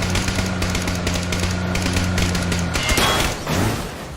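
Rapid automatic gunfire rattles out from a moving vehicle in PUBG, a loud continuous burst under engine rumble that cuts off near the end.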